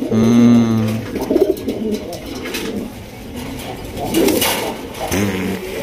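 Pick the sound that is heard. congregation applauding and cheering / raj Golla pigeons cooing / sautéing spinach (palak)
raj Golla pigeons cooing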